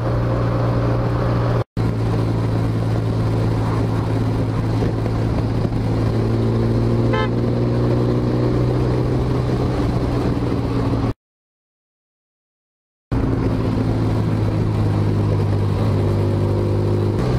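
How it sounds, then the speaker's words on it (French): Car engine revving high, climbing past 5000 rpm toward the rev limiter: a loud droning tone whose pitch rises steadily, with a brief cutout midway, and no voices. "quand elle monte dans les tours, quand elle passe 5000, bah là il n'y a pas de souci"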